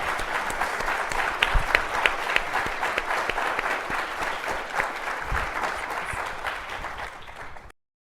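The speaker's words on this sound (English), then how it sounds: "could you please provide our panelists with a fantastic round of applause for their comments today" Studio audience applauding panelists at the close of a national security law discussion program, a steady, dense round of clapping sustained for about seven seconds before cutting off abruptly.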